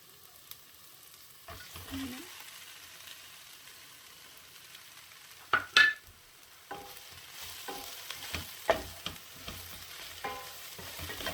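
Mushrooms begin frying in a pan with a faint, low sizzle, joined by a few sharp clanks and scrapes of stirring, then settle into a quiet steady crackle.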